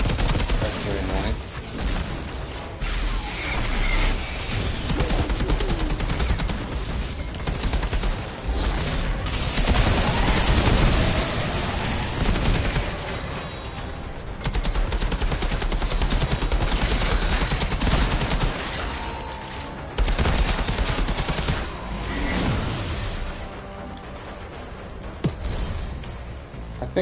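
Dense, sustained gunfire from the Outriders video game, playing as the Trickster class: rapid bursts and fusillades fill the whole stretch at a fairly loud level, with occasional heavier booms and mechanical clicks among the shots.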